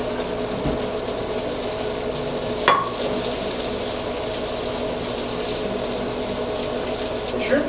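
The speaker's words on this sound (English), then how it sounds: "And now, we're going to put the shrimp in." Shrimp sizzle in a hot pan with zucchini noodles for scampi, a steady close frying hiss with a sharp clatter of stirring partway through.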